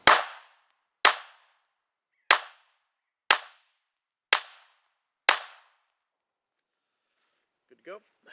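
Six sharp, loud pistol shots from an M&P Shield ring out at steady intervals of about a second on an 8-yard range, each with a quick decay, followed by silence and a brief faint voice.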